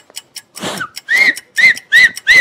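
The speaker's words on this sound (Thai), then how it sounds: "ผิวปากได้ไหมทำให้ดูหน่อย" A person on a Thai interview show whistles on request: a few brief voiced sounds, then a series of short, clear whistled notes with rising glides, close and fairly loud.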